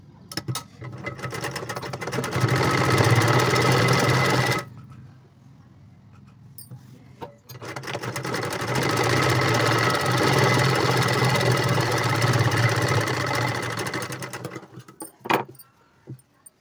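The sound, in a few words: sewing machine stitching blouse cloth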